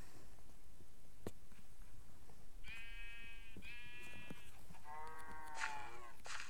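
Cows in a farming video game give a few drawn-out, bleating moos one after another against a steady, faint background hum, with no talking.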